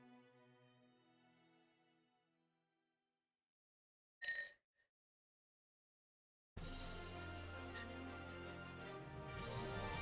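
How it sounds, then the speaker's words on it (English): A metal straw clinking against a cup, one short bright ting standing out alone in near silence with a faint second tap just after, set between quiet stretches of background music. "I have a metal straw in my cup, so making a ting ting sound."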